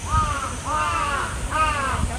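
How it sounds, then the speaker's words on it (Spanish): Large crows in Yoyogi Park, Tokyo, give three loud, harsh caws in a slow rhythm, close by, over a steady background hiss. "Son muy grandes los cuervos, hacen mucho ruido"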